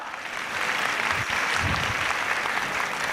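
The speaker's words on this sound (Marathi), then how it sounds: "प्लीज टाळ्या वाजवा." A hall audience at a Prabodhan Sanstha talk in Pimpri-Chinchwad claps steadily, a dense, continuous burst of many hands that swells slightly after the first half-second and holds loud throughout.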